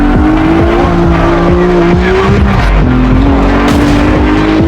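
Racing car in the mobile game CarX Street drifting with boost, a loud continuous engine whine with shifting pitch, gear-change steps and tire squeal running throughout.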